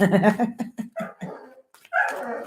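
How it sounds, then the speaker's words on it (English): A dog barks and yips repeatedly at close range indoors, a run of quick sharp barks followed by a brief pause and then a longer, whining bark. "He's just sitting looking at me and barking now."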